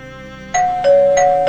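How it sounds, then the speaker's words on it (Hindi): A two-tone electronic doorbell chimes, ringing twice in quick succession, clear and close with a short ringing decay. "डोरबेल बजी है, शायद कोई है,"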